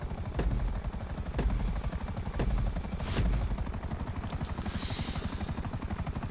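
A Buzzard helicopter in a video game flies in a race, its rotor giving a steady rapid chopping thrum close by, with a few heavier thumps and no voices.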